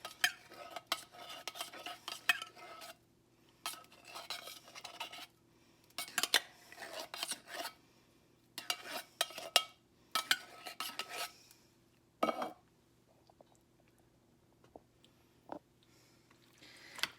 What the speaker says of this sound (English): Then I just stir it in.